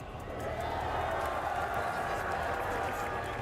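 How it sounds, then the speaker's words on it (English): A large arena crowd cheers and roars at a Valorant esports championship final, a steady, loud wall of noise swelling slightly and sustained without a break. "This crowd is absolutely electric."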